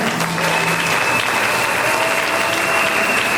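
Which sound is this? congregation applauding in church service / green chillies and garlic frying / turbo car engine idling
congregation applauding in church service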